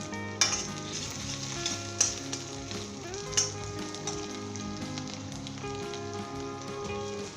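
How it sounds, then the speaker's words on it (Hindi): Onions frying in a pan for cabbage sabzi, a steady close sizzle with a few sharp stirring clinks, continuous throughout with no talking. "जस्ट हमने इसे 2 मिनट के लिए फ्राई करना है"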